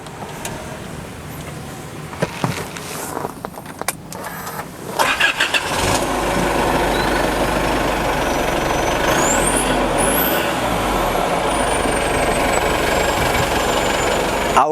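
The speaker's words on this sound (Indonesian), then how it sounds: "sebelumnya kita tes dulu nih, Brik, suara knalpot" Isuzu MU-X engine cranking and firing up, then settling into a loud, steady exhaust rumble and idle up close, with a brief higher rising tone near the end.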